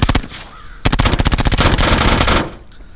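Rapid automatic gunfire in a video game, fired from an asylum map's openings, loud and close with a short opening burst, a brief gap, then a sustained stream of shots.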